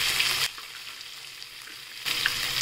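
Curry leaves, green chillies and washed moong dal hit hot oil already seasoned with mustard seeds and cumin, giving a loud bright sizzle that drops to a quiet simmer, then flares up loudly again.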